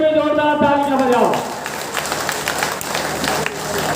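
At a political rally, a voice is briefly heard, then a crowd breaks into loud, continuous clapping that carries on to the end.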